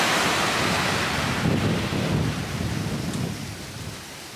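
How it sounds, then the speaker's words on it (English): Thunder rumbles at a beach under a darkening sky before rain, mixed with surf and heavy wind buffeting the microphone, loud at first and slowly easing off. "We're seeing a lot of lightning strikes and some thunder."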